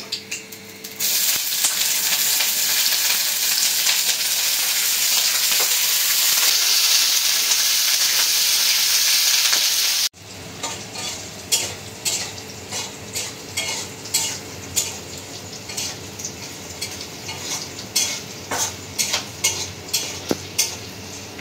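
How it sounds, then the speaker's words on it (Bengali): Cubed onions fry in soybean oil in a kadai: a dense, steady hiss for about ten seconds, then quieter sizzling broken by repeated scraping and clinking strokes of a spoon stirring. "কিউব করে কেটে রাখা পেঁয়াজটা আমি একটু ভেজে নিব। তো কড়াইতে সয়াবিন তেল দিয়ে দিলাম,"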